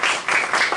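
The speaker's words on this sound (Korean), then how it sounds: "C'est vous qui applaudissez" A congregation applauds during a French-language service at Onnuri church, a brief burst of many hands clapping together, fairly close and steady.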